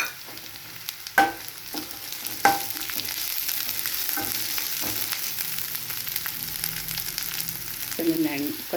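Green chillies frying in oil with ginger garlic paste, a steady close sizzle punctuated by a few sharp utensil knocks and stirring scrapes, with a brief crackle near the end and no talk.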